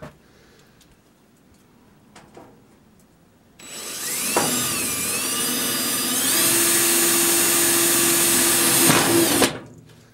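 A power drill at a sugar shack drives screws into wood, a loud, close motor whine that rises in pitch and holds steady for several seconds before stopping, after a few quiet knocks.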